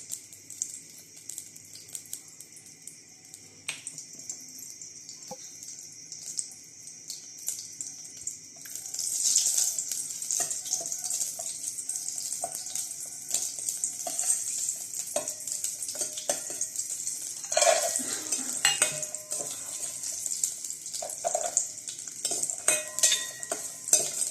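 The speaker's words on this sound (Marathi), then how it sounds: "तूप टाकून घेऊया ड्रायफ्रूट्स आणि शेवाय घेऊया दोन परतून घेतात" Dry fruits and vermicelli are sautéed in ghee, beginning quietly and then building into a steady close sizzle with scattered clinks and scrapes of stirring.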